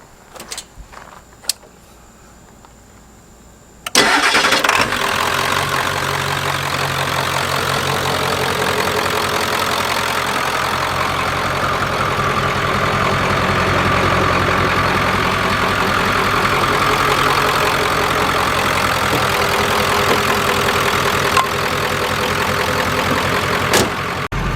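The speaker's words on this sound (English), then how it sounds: "We're gonna fire it up. Hopefully it starts." A boost-modified OBS Ford 7.3 diesel truck engine cranks and fires at about four seconds, then settles into a loud, steady idle close by with a rough, clattering diesel knock and no talking.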